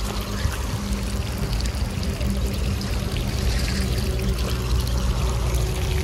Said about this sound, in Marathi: हे अशा प्रकारे नळातून जे आपण नळ काढलेले आहेत त्याच्यातून पाणी येतं.